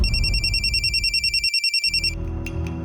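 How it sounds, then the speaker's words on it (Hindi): A telephone rings loudly with a rapid trilling bell, one long burst that cuts off, followed by a brief click and faint room noise. "उसके बाद फौरन मैंने मुकेश को फोन लगाया।"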